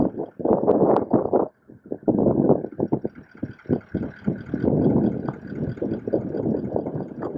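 Gusty wind buffets the microphone in loud, irregular rumbling bursts at a rock outcrop campground in Western Australia's Wheatbelt, dropping out briefly before surging again.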